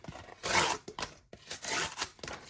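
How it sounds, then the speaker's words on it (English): An M390 steel knife slicing through cardboard at an angle, giving several close, rough scraping cuts in quick bursts with brief pauses between strokes. "when cutting cardboard, don't cut perpendicular, but rather at an angle like that"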